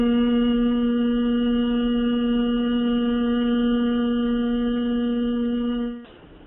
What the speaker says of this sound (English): we're going to hum and sustain the pitch as long as you can